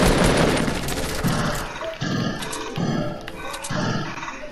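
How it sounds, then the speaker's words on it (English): Rapid overlapping gunfire from several enemies at once in a Fortnite squads match, dense bursts of automatic shots stacking up loudly and continuously. "They all started shooting at me at once."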